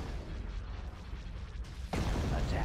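Cannon battery fire erupts in the Star Wars strategy game Thrawn's Revenge, a dense rumble of overlapping distant blasts that suddenly swells into a louder, heavier barrage near the end.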